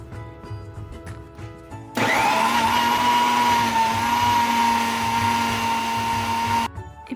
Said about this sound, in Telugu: ఇలా ఆరిపోయిన మామిడికాయ ముక్కల్ని మిక్సీ జార్లోకి వేసుకొని దీన్ని మెత్తగా మిక్సీ పట్టుకోవాలి